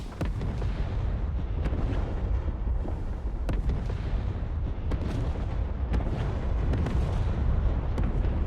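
Bombs exploding in the DCS flight simulator, heard as a continuous series of deep rumbling blasts with sharp cracks scattered through, loud and sustained, with no talking.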